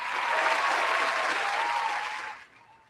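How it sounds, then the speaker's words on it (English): A studio audience at a live talk show breaks into a dense burst of applause and cheering, loud and sustained for about two seconds before fading out quickly. "Big round of applause here for the studio audience."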